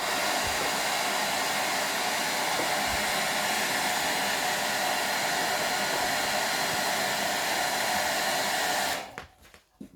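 A heat gun blows steadily and loudly up close while reheating carbon wrap film on a motorcycle fairing, then cuts off near the end, leaving a few faint handling noises.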